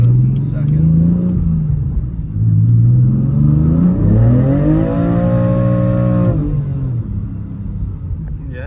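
A BMW F80 M3 engine growls and revs up and down in rising, falling sweeps, then settles back toward idle, with voices talking over the car's rumble.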